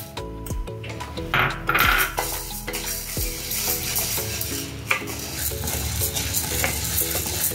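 Toor dal dry roasting in a pan, the lentils rattling and skittering as they are stirred, with a light crackle and occasional sharp clinks of the spoon against the metal, no voices.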